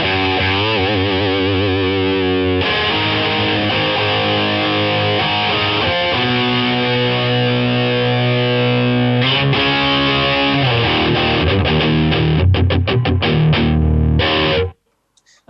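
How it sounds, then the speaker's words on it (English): Electric guitar played through a distortion pedal, thick fuzzy chords and riffs ringing out continuously and loudly, ending in a few choppy strums before cutting to silence. "if I pop the distortion on with the pedal"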